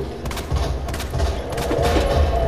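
Rapid bursts of gunfire aimed at an eyeball weak spot in the video game Resident Evil 2, loud and close, several shots running together over a dense in-game background.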